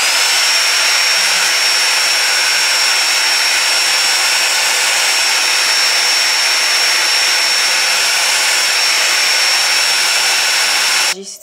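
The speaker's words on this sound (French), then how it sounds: "Là je viens avec mon sèche-cheveux pour bien sécher ça." Steady, loud broadband blowing of a hair dryer drying wig glue, running continuously at close range, cutting off abruptly at the very end.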